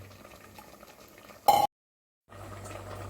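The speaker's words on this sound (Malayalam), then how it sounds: "പുളി ഒഴിച്ചിട്ട് ഇപ്പം നല്ലപോലെ തിളച്ച് കഴിഞ്ഞു." Tamarind curry, puli curry, bubbles at a steady boil in a pot, a soft continuous simmering hiss broken by one brief loud clatter and a short gap of silence.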